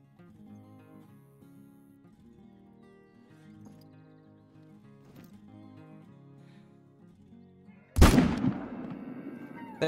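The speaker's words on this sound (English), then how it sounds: "I'm gonna go ahead and take him with the rifle." A hunting rifle fires a single shot at an elk in theHunter Call of the Wild on Silver Ridge Peaks, a sharp loud crack with a rolling echo that breaks in after a stretch of quiet background music.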